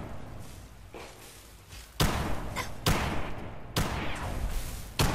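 Gunshots ring out at an enemy soldier in the Fallout 4 video game, landing as several heavy, evenly spaced bangs, each followed by a sustained noisy rumble.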